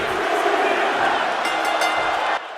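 Video game wrestling crowd in WWE 2K25 roaring and cheering as a finisher approaches, a dense, loud, sustained arena din that drops suddenly at the end, with commentary talk underneath.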